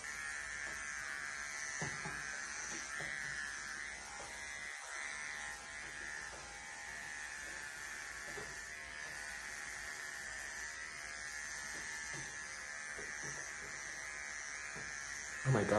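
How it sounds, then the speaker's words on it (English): Steady buzzing hum of an electric shaver running continuously across a head, close to the mic, with faint background noise and brief dips in the motor tone. "Shaving my head is very relaxing, so every time I shave it, I just space off into oblivion."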